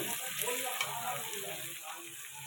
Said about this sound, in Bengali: পেঁয়াজটাকে কড়া করে ভেজে নেব, লাল করে একদম ভেজে নেব।